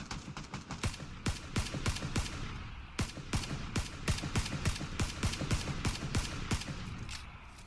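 Gunfire from a player's 4x scoped rifle in the PUBG video game: a long run of sharp, fairly evenly spaced shots, two dozen or so cracks in quick succession, fairly faint and with no voices over them.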